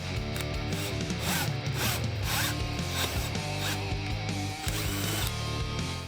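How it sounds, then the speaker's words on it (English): A drill with a 9/16 bit grinds and buzzes continuously at close range, enlarging a hole for a Harley-Davidson saddlebag hinge cover, its motor whine rising and falling with a bed of steady tones behind it. "I'll switch over to my 9/16 drill bit."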